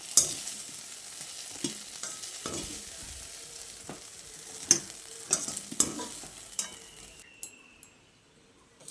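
Fried egg and soybean mixture scraped and stirred in a kadai and transferred to a bowl, with a steady soft sizzle under intermittent spatula scrapes and clinks, close and fairly quiet, no talking.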